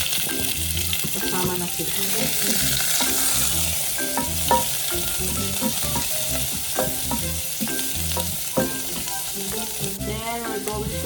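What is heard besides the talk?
onion and garlic sautéing in a pan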